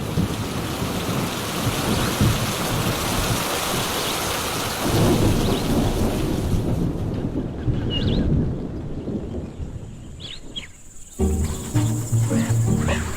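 A thunderstorm brings heavy rain to dry meerkat country, a dense steady roar of rainfall with rumbling thunder, insects chirping faintly beneath it and a sudden drop near the end before the downpour resumes.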